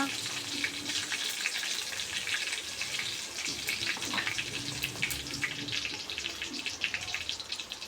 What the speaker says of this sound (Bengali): মরিচটা আমরা আগে ভাজে নেব। দেখুন এরপর আমরা দিয়ে দিলাম তেজপাতা, কাঁচা জিরা,